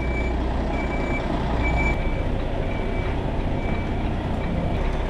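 A lorry reverses blind into a tight spot, a loud diesel rumble with a steady series of regularly spaced reversing beeps sounding over it.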